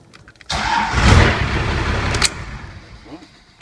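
A car engine cranks and catches after a manual Getrag gearbox conversion from an automatic, a sudden loud burst that settles into a steady running rumble before dropping back, close by with no talk.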